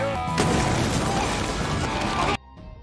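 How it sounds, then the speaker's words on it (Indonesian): A car explodes in a film scene, a loud sustained blast with roaring crackle that cuts off abruptly into a quieter tail. "Setelah Jekyll pergi, mobil pun meledak."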